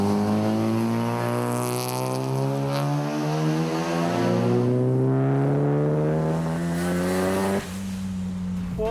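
Nissan R35 GT-R from 2007 with its engine running loud and close, the rising harmonic tone of revving climbing steadily for several seconds before dropping back and continuing, with no talk.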